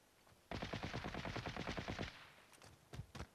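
Automatic gunfire in the Call of Duty Warzone video game: a rapid burst of about fifteen shots lasting over a second, followed by a few separate single shots, fairly distant with no talk.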